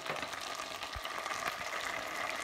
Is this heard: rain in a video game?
no